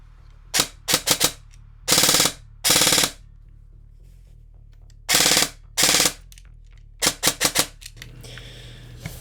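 A VFC SIG MCX airsoft gun on an 11.1 LiPo fires in semi-auto, loud sharp mechanical bursts of clattering shots in short clusters separated by pauses, close and without voices.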